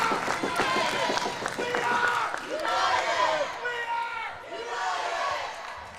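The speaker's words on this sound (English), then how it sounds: "Both cheering sections are getting loud in here today" Girls' U17 soccer state cup final crowd, with Detroit City FC and AYSO supporters' sections cheering and chanting loudly in swelling waves, voices rising and falling together across a stadium.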